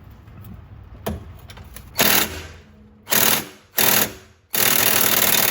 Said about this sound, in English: just gonna take an 18mm wrench on one side and an impact on the other